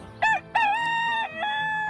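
A rooster crows a single cock-a-doodle-doo, loud and near, with a short opening note followed by a long drawn-out call that falls away at the end, heard alone with no talk.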